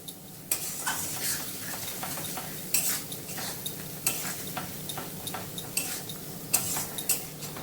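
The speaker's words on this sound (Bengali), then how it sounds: "এভাবে ভালোভাবে কষে নিতে হবে।" Chicken being stir-fried in spice masala over medium gas flame for a country chicken curry, with a soft sizzle beneath repeated scraping and clinking of a spoon against the pan in an uneven rhythm, close and without talk.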